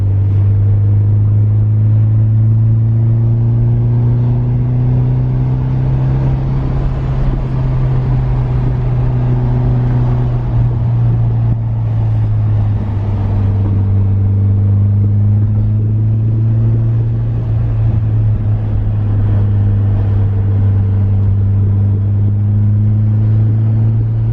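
A Nissan 180SX sports car engine rumbles steadily and loudly, with the pitch rising and falling as it revs, continuous throughout with no talking.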